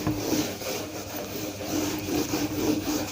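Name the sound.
rubbing out writing on a board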